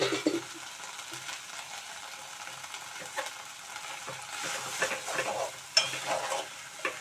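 Coriander leaves with stems and curry leaves stirred in a little oil in a pan give a steady soft sizzle with scraping stir strokes throughout, close and moderately loud.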